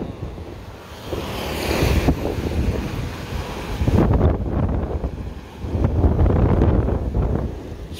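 Sea waves surge and wash against a wharf in Iloilo City under heavy wind buffeting the microphone, the water swelling and breaking in loud, rolling bursts close by with no talk.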